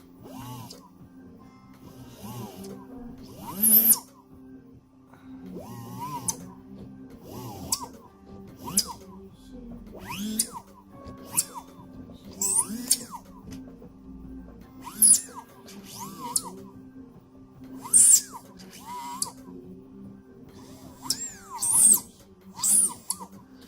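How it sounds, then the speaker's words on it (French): A brand-new drill bores in short, repeated bursts of whirring and grinding, moderately close, with brief pauses between each run and a faint background hum. "Donc là, je continue à percer."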